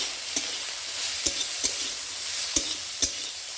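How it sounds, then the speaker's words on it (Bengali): Ivy gourd frying crisp with poppy seeds and salt in a pan, a steady dense sizzle with occasional sharp clicks of the spatula stirring, close and alone without talk. "কুঁদরিগুলো খরা খরা ভাজা হয়ে গেছে।"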